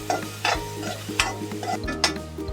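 Chopped onion frying in a pan over high gas, a bright sizzle punctuated by several sharp scrapes and taps of a spatula at an uneven rhythm, close and alone.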